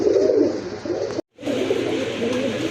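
A red khaki pigeon pair, a big red-barred cock and a hen, coos in low throaty murmurs close by, with a brief cut of silence midway and the cooing then continuing steadily.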